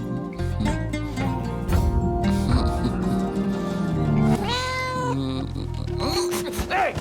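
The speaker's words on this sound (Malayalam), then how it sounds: "അതാ പാവം സുലേഖയുടെ പൂച്ചല്ലേ?" A cat meows repeatedly in a Malayalam film scene from Sudani From Nigeria, its drawn-out, rising and falling cries close and clear over a busy soundtrack.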